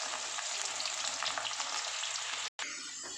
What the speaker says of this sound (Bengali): যখন দেখবেন ডালটা ভাজা হয়ে গেছে তখন পুরো ভেসে উঠবে